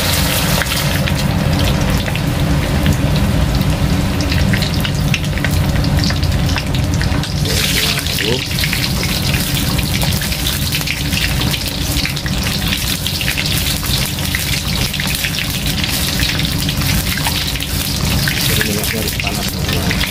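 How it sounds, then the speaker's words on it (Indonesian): Eggs frying in very hot oil in a wok, a dense, loud crackling sizzle that fills the whole stretch without a break, close up, with some muffled talk in the background. "Minyaknya harus benar-benar panas teman-teman untuk goreng telur"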